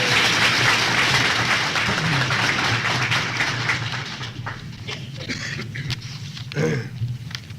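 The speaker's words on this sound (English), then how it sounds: "Now, if you want, you may give them a round of applause." Audience applause at a law school alumni honors ceremony, loud steady clapping at first that gradually thins and fades over several seconds, with a few scattered claps lingering near the end.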